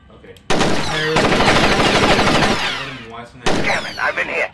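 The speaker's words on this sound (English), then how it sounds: "Some bastard is shooting at me." Gunfire in the stealth video game Splinter Cell Chaos Theory: loud, rapid automatic bursts rattling continuously for a few seconds, then a shorter second burst, close and harsh.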